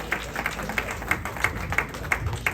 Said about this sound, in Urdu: تالیاں ہونی چاہیے.